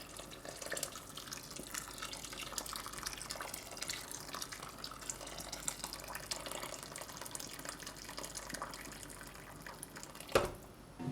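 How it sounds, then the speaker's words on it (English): Hot water pours into a pot of cassoulet with white wine, tomatoes and beans, a steady close splashing and trickling that runs throughout and ends with a brief louder clink. "hot water"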